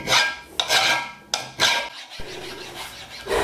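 Hand file rasping across an old plane blade in repeated scraping strokes, close and fairly loud, with short pauses between strokes.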